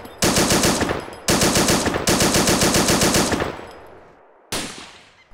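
Loud sustained machine-gun bursts from the video game Arma 2, three long rapid-fire strings with short gaps, the last trailing into an echoing decay before a final burst begins.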